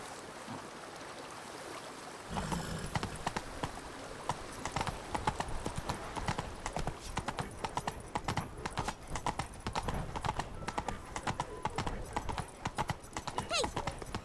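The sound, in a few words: horse hooves galloping in The Witcher 3 video game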